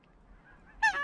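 Canada geese honking during a goose hunt, a faint low murmur building into a sudden burst of loud, harsh honks from a nearby bird near the end.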